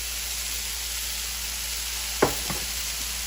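Garlic and finely diced onion sautéing with peaches in a pan, a steady close sizzle with a couple of brief knocks of a utensil near the end.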